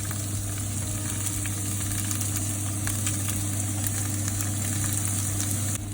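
Onion frying in oil with ginger garlic paste, a constant close sizzle with faint stirring ticks, over a steady low hum from a nearby appliance, no talk.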